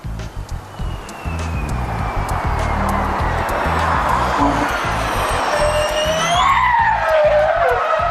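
A car skidding on a race circuit, rising engine roar and long screeching tire squeal that swells to a loud, sustained skid before the end, with a voice briefly audible near the start.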